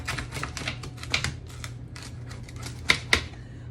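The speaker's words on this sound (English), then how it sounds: "So now we take our pizza cutter, and with our pizza cutter, we're going to go ahead and just cut" A pizza cutter slices through a baked shrimp flatbread, producing a few faint scraping strokes and a couple of sharp clicks over a low steady hum, with no voices.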